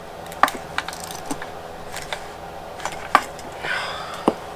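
A ratchet tightening bolts with a 17 mm socket on the split case of a Suzuki TS185 two-stroke engine during a rebuild: scattered sharp metallic clicks and ticks, close and fairly quiet, with no voices.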